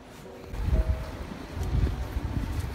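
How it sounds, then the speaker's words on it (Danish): Strong wind outdoors in Copenhagen buffets the microphone with a low, rumbling roar that swells in gusts, close and continuous with no other clear sounds. "Det blæser sindssygt meget, det er faktisk ret irriterende."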